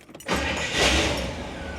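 A 1966 Cadillac Eldorado convertible with a 429 V8 cranks and catches, then settles into a loud, steady rumble close by, with no talking over it.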